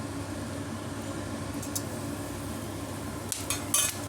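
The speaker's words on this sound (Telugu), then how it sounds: "ఆయిల్ వేడైంది కదండి, ఈ పట్టా, లవంగం వేసేసుకుందాము" Cinnamon and cloves dropped into hot oil for a brinjal masala curry give a steady, close sizzle, with a few light clinks of a utensil against the pan toward the end.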